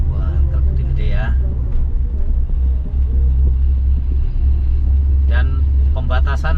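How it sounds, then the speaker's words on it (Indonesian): Big trucks passing on the Pantura highway between Cirebon and Brebes, a heavy, continuous low rumble of engines and tires from inside a moving vehicle, with people talking over it at the start and end. "Wah truk gede-gede ya."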